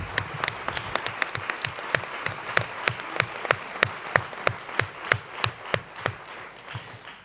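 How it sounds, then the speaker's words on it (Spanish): Conference audience at a national giftedness congress clapping in a loose, distinct rhythm, individual claps standing out sharply and swelling slightly before tapering off, moderately distant. "un aplauso"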